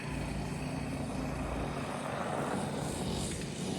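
Small engines of a go-kart and a dirt bike run steadily on a dirt track, a continuous droning buzz with no breaks, held at a fairly even level throughout.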